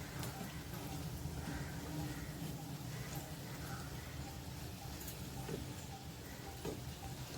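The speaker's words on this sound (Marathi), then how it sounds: "एका साईडने छान फ्राय झाले आता पलटी केलीत मी एकदम मंद गॅसवर त्याला शेकून घ्यायचं आहे" Medu vada, crisp-shelled lentil fritters, sizzling and bubbling steadily in oil over a very low gas flame after being flipped, a continuous soft frying hiss with faint ticks throughout.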